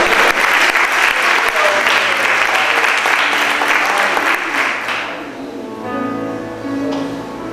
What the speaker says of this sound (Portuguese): Eu pensei que vocês iam aplaudir o Senhor.